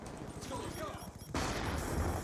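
Gunfire in the online shooter Black Ops 2 comes as rapid, dense bursts of game shots. The firing is fairly faint, and the bursts shift into a heavier, louder stretch partway through.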